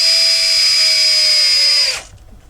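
A power screwdriver drives screws into an Xbox 360 console with a steady, close, loud whine that holds evenly for about two seconds, then cuts off abruptly as the driver stops.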